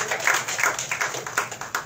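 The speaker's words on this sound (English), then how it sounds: "Give yourselves a round of applause." Audience applause at a live concert at a bar venue fills the room, a dense patter of many hands clapping at steady volume for a couple of seconds, no voices over it.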